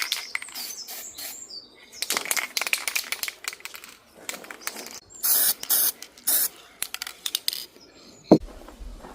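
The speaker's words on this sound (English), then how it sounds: "We use a spray can that goes over what we want to spray." Aerosol spray paint can hissing in a series of short bursts of varying length with brief pauses between, used for a DIY painting job on cottage shutters, close and fairly loud, with a sharp knock near the end.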